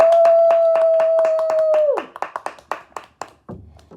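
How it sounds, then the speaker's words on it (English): Children clap at the end of a storybook reading in a class, first a run of quick claps under an adult's long drawn-out cheer, then scattered single claps trailing off. "Good job. Let's clap."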